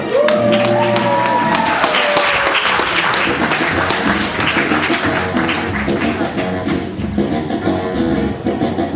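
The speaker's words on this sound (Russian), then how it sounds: "бурными аплодисментами встречайте команду КВН «Цветы жизни»" A loud, sustained burst of audience applause greets the KVN comedy team "Tsvety Zhizni" as it takes the stage, with a short musical flourish at the start and dense clapping throughout.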